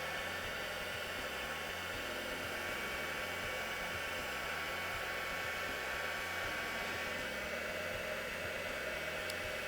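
A heat tool blows steadily at close range, melting embossing powder on gloss card with a loud, unbroken whooshing roar that holds evenly throughout.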